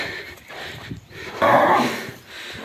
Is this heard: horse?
yes